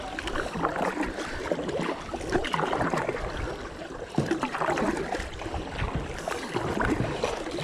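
Kayak paddling on the Santa Fe River: repeated paddle strokes splash and swish through the water in an uneven rhythm over a continuous wash of river and wind noise, close and moderately loud.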